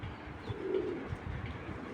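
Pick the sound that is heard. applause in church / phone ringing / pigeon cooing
pigeon cooing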